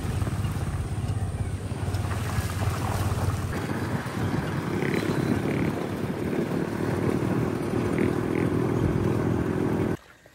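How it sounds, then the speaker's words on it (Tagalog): A habal-habal motorcycle taxi carries riders along a rural route after a river crossing. The engine drones steadily under heavy wind buffeting on the microphone for about ten seconds, then cuts off abruptly at the end. "agad naman kaming sumakay ng motorsiklo o habal-habal kung tawagin dito sa amin"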